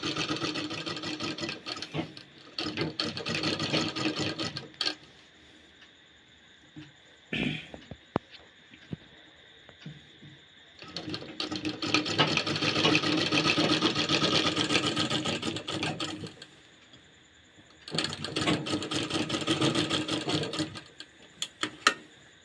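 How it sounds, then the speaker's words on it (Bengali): Sewing machine stitching kameez fabric runs in several bursts of rapid mechanical whirring, separated by short quiet pauses and small clicks. "এইভাবে আমরা সেলাইটা শুরু করব"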